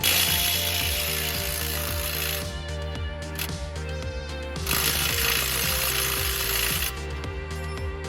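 A tool works on the lower shock bolt of a 2018 Chevy Silverado 2500, loud, close and continuous, with rapid mechanical rattling and a couple of short pauses in the run.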